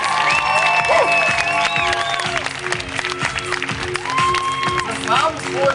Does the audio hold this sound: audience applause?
yes